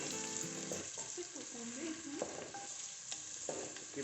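Garlic and onion sauté in a pan on a wood-fired stove, giving a faint, steady sizzling hiss with some soft tonal sounds early on.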